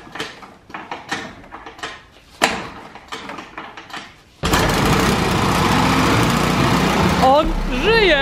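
An old car pulled straight from a scrapyard starts after a few clunks and clicks, then its engine catches abruptly and runs loud and steady at close range, while people shout and talk over it.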